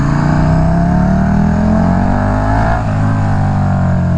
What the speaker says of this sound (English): you can hear the sound of the engine now with the muffler delete